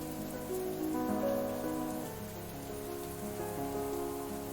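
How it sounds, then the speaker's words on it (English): Heavy rain pours down in a loud, continuous wash with no speech over it. "that rain's so aggressive"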